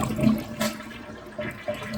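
A toilet flushing to empty the bowl during a shutoff valve repair, a short watery rush with a few gurgling surges, close and clear with no talking.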